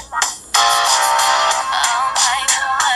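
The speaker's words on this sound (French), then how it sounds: "un petit son caverneux avec un haut-parleur qui est en retrait" A Britney Spears pop song plays through the small, recessed speaker of an Elephone P8000 smartphone, sounding thin and boxy, loud and continuous after a short pause near the start.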